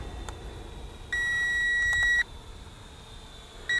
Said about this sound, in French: la chose particulière, c'est que la télécommande bip